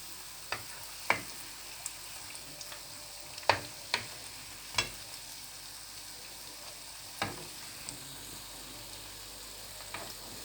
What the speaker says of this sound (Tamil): இப்போ எண்ணெயில் போட்டு எல்லாத்தையும் பொரித்து எடுத்தாச்சு